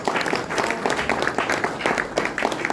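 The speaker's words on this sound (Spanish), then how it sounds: "Otro aplauso, por favor" A crowd at a tribute event in a national sound archive claps in lively applause, with individual sharp claps standing out near the front over a continuous patter of hands, loud and close.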